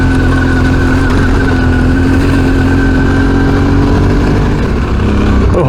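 A Suzuki V-Strom 650 adventure motorcycle rides a sandy trail on the Henham Track in the Grampians in a low gear with steady throttle. The engine drones loud and close at an even pitch and rises slightly at the end.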